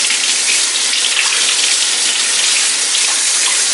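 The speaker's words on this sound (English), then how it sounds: "So let's rinse these off." Collard green leaves rinsed one by one under a running kitchen tap, a steady loud gush of water hissing continuously with no pauses or voices.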